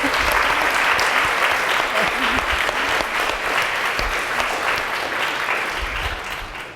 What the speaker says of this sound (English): I think a round of applause for the magazine.